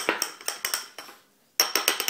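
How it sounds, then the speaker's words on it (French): Pizza dough is mixed with water in a bowl, with a utensil knocking against the sides in a quick run of close taps, a brief pause, then another burst of taps. "On mélange bien"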